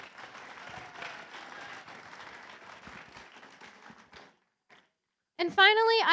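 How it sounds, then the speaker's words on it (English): An audience at a FIRST Tech Challenge robotics qualifying tournament applauds steadily for about four seconds, dense clapping that fades out, followed by silence and then a loud voice cutting in. "please thank them for us. With a round of applause"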